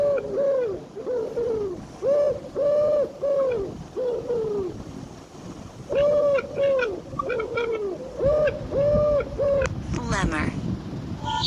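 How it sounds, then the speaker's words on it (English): Pigeon coos repeat in a steady rhythm of close, fairly loud rolling calls, with a breezy rush of wind noise toward the end. "Pigeon."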